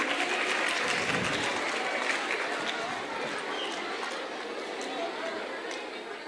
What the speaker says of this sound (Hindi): जोरदार तालियों के साथ हमारे अतिथियों का सम्मान करते रहें।